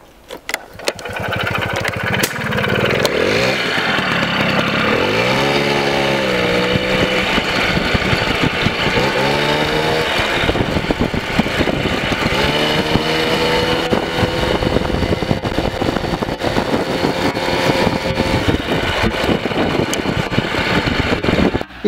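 A Piaggio moped's small engine runs after sitting unused for two months, a loud, steady buzzing drone with a few rising revs early on, then holding a continuous idle to the end with no talk over it.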